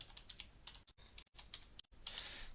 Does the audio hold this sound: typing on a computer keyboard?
yes